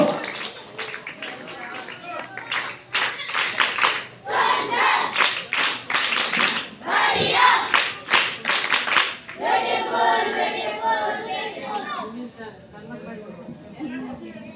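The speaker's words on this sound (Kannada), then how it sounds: "ಇನ್ನೊಮ್ಮೆ ಜೋರಾದ ಚಪ್ಪಾಳೆ ಮಕ್ಕಳಿಂದ ಗೋ" Children clap loudly for honoured guests at a Navaratri Dasara stage function, a thick, uneven burst of applause mixed with crowd chatter and shouts that shifts to a thinner, lighter patter of clapping near the end.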